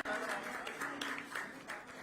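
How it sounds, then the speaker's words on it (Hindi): A crowd at a Delhi government media event applauds steadily, with dense clapping sustained for a couple of seconds, heard at moderate distance. "एक बार जोरदार तालियां हमारे माननीय मुख्यमंत्री महोदया और सभी मंत्रीगण के लिए"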